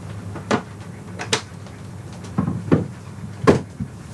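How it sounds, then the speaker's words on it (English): A door closes with several soft knocks and clunks, close by in a quiet room, spaced irregularly over about four seconds. "should close the door, shouldn't we?"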